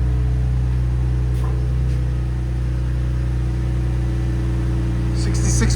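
A 2026 RAM 1500 with the 3.0L Hurricane inline-six idles through a Flowmaster Super 10 exhaust, a steady low drone holding even throughout, with faint background voices.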